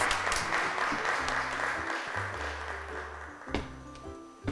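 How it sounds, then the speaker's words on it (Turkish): A studio audience breaks into steady applause on a Turkish children's television program as a young guest is called to the microphone, the clapping continuous and fairly close, with low tonal music bars sounding underneath throughout. "Arkadaşımız Elif Lina'yı alkışlarla mikrofona çağırıyoruz."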